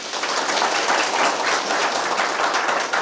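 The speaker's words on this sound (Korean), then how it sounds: "김종인 대표 환영 박수 부탁드립니다" A welcoming round of applause for Kim Chong-in, Democratic Party election committee chair, at an invited talk: dense, even clapping from a sizable crowd that holds steady for a few seconds and then stops abruptly.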